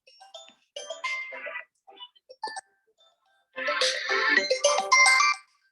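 A phone ringtone plays in bursts of a tonal melody, a short phrase, a pause, then a louder, longer sustained stretch of ringing, close and alone.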